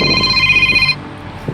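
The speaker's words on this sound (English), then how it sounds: "Excuse me, I'll just answer the phone." A telephone rings loudly and close, a sustained electronic ring that stops abruptly, followed by faint room noise.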